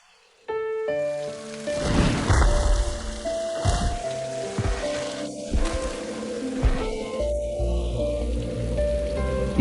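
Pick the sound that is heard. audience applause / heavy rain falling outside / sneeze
heavy rain falling outside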